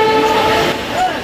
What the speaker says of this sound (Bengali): শুনতে পেলেন ট্রেন ছাড়ার বাসি দিয়ে দিয়েছে